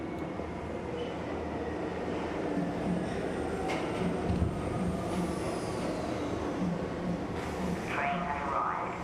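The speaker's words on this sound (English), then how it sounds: "Train has arrived." A train arrives in the video game Arc Raiders, a continuous rumbling rail roll with metallic clatter and brief wheel squeals rising through the mix, mid-distance and steady, while a voice talks over it.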